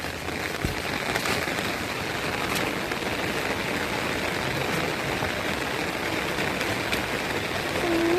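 Steady rain pours down on a cassava farm in rural northeast Thailand in a dense, even hiss, with no voices.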